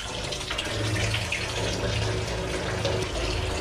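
Water draining from a filled solar collector loop built into a metal kiln roof, a steady close gushing and trickling wash with air being drawn in, continuous throughout.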